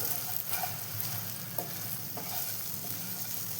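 Grated coconut and watermelon seeds sauté in a pan with a soft, steady sizzle and a few faint scraping stirs, quiet and close.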